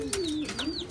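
Soft coos from Royal Teddi pigeons, a low rolling murmur repeated twice, close by, with a few faint higher chirps above it.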